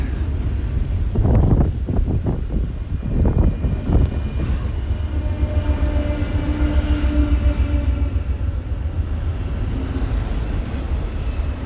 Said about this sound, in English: loud noise you heard was that one of the engines that was in the middle of the train